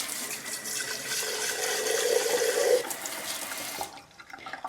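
Kitchen tap water runs into a jar to rinse out a sourdough starter, a steady hissing stream with a rising filling tone that cuts off near the end.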